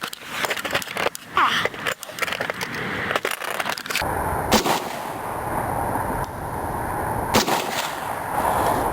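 An SKS rifle fires in an outdoor functionality test. Sharp reports come several times in quick succession early on, then a steadier roar of noise follows with a few more cracks, and there is faint background chatter.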